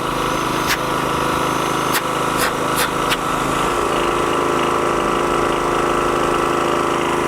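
A small engine drones steadily at close range, with a few sharp clicks or knocks early on: a Daewoo GDK3600 3.3 kW portable generator running.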